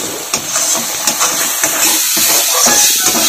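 Spices with a little dried red chilli powder sizzling and being stirred in a pan for a bean (shim) chorchori, a steady close hiss with scattered soft clinks of a spatula against the pan and no talking.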